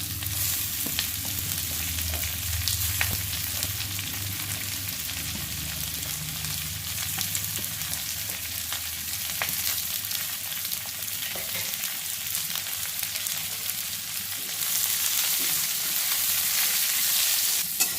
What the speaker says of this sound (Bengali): বাকিটা এর মধ্যে দিয়ে একটু লাল লাল করে ভেজে নেব।